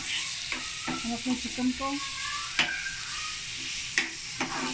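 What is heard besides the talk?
chicken frying in a pan with a little oil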